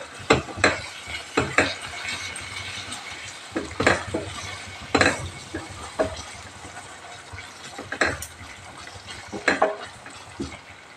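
Onion tomato paste frying in oil for a chicken fry, with frequent clattering scrapes of a spoon against the pan over a low sizzle, close and busy, no talk.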